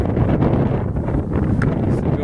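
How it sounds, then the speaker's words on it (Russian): Strong wind buffets the microphone at an outdoor campsite, a dense continuous low roar with gusty swells throughout the short stretch. "ветер, думаю, мешает, но никуда от него не деться."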